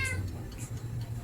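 A pet cat gives one short, close meow at the start, then soft household noise and faint low rumble follow.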